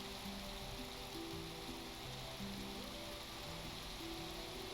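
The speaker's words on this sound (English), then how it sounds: "Let's invite the rain," Rain falls in the video game Minecraft as a soft, steady hiss, quiet and constant, with gentle melodic game music playing over it.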